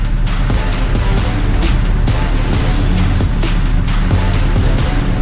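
A Hyundai articulated truck driven hard at speed gives a loud, continuous engine drone with deep, heavy low rumble and steady road and wind noise throughout, with no talking.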